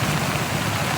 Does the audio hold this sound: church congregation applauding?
no